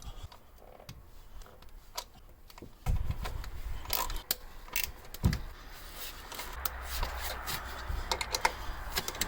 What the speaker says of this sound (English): broke loose the 12 bolts on the intake plenum with my ratchet